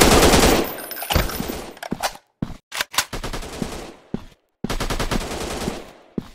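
Gunfire in the Special Ops 2020 Encounter Shooting FPS mobile game: loud close automatic bursts open and close the stretch, with scattered single sharp shots and brief silences in between.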